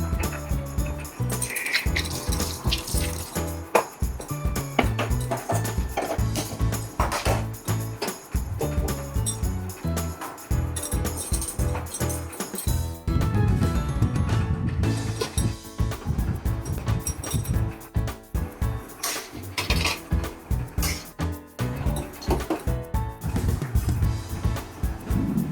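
Pots and utensils clink and clatter busily in a home kitchen while tea is put on to brew, with rapid metallic rattles and knocks repeating throughout, close and fairly loud.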